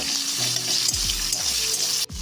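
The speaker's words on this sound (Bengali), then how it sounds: "মশলাটাকে একটু ভেজে নেব।" Tomatoes, chillies and ginger paste frying together as a masala in a pan, a steady close sizzle with soft stirring scrapes and a brief dip near the end.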